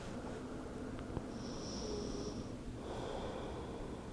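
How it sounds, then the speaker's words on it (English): Slow, gentle breathing during a kids' yoga rock pose, soft and faint inhales and exhales against a quiet background, with no talk. "Just breathing slowly in your rock pose."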